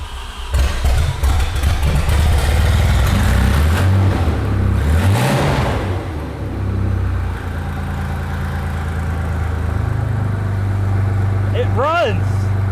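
A rare Audi 90 Quattro Sport with no exhaust fitted cranks and catches in a scrapyard, then runs loud and rough and revs up and down close by while people talk over it.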